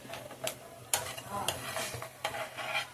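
Food fries in a pan while a spatula stirs it, giving a low sizzle broken by repeated sharp scrapes and clinks against the metal, close by and with no talking.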